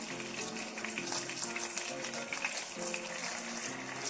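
Flour-coated meatballs fry in a pan with a dense, continuous sizzle and crackle that holds steady at moderate loudness, with no voices.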